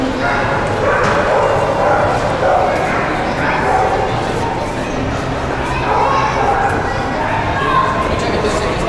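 Several dogs yip, whimper and bark inside a busy luxury shopping mall in Mexico City, steady under the hubbub of a crowd and people talking.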